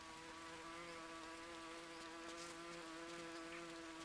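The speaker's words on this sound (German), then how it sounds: "Gibt es ja auch schon wieder ein Bienennest oder was?" A steady, droning buzz of bees swarming around a bee nest in the jungle survival video game Green Hell. It is low and continuous and holds throughout.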